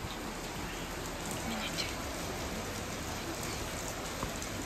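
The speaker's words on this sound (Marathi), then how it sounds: "आणि पाऊस पडतोय।" Rain falls steadily on a home balcony crowded with potted plants, a continuous even patter and hiss close by with no other sounds standing out.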